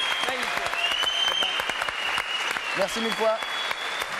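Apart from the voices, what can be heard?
studio audience applause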